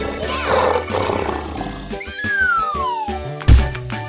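Lion roar in a children's animal transformation cartoon, a loud roaring burst mixed with music and effects, rising then sliding down, followed by a sharp thump near the end.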